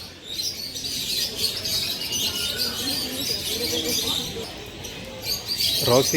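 Dense, high-pitched chirping from many lovebirds at Mysore Zoo fills the air continuously, a busy twittering chorus with no pauses.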